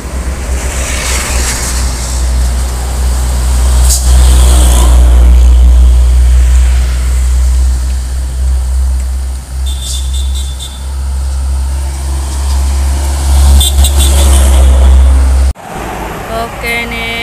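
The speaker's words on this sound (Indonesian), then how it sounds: "Macet banget coba." Traffic jam in Palembang with cars and a bus: a steady, loud, low engine rumble with passing vehicle noise, as if heard from beside or inside an idling bus.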